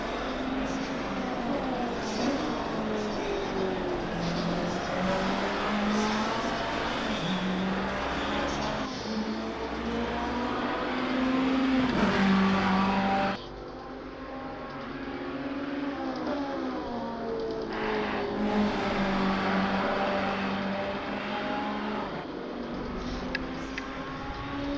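A Ferrari race car engine in a racing video game at Imola sings at high revs, rising and falling through gear changes, loud and continuous, and drops to a softer tone partway through.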